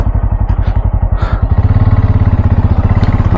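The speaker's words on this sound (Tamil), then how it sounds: "ஆமாம், வண்டியை ஸ்டார்ட் பண்ணிட்டோம்." A motorcycle engine starts and settles into a loud, close, rapid thumping idle on a ride toward Kodaikanal, the beat quickening slightly after a second or so.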